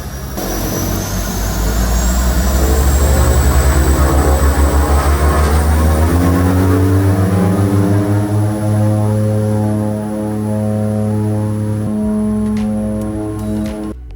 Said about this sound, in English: This twin otter came with 2 functioning engines.